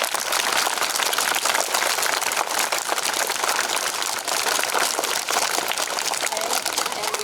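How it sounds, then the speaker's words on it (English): A school audience at an Earth Day event applauds, a dense, steady clapping that stays loud and even for about seven seconds with no break. "Let's give him a round of applause."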